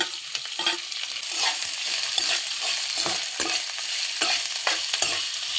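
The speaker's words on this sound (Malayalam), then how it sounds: "പച്ചമുളക് ഒന്ന് സ്വല്പം നമ്മൾ വഴറ്റി കഴിഞ്ഞ ശേഷം നമുക്ക് സ്വല്പം സബോള ഇടാം" Green chillies and onion sautéing in a pan for liver fry, a steady sizzle with repeated scraping stirs throughout, close and moderately loud with no talking.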